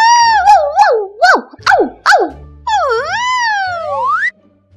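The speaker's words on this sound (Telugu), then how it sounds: "రెండు కుక్కపిల్లలు బురదలో పడి బయటికి వెళ్లలేక అరుస్తూ ఉన్నాయి." Two puppies stuck in mud cry out with loud, close whimpering yelps that rise and fall, followed by a long wavering howl-like wail, with no speech over them.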